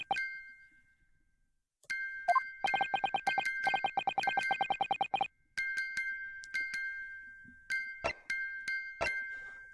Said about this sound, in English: It's the defense belief that the sound emanating from this music box is...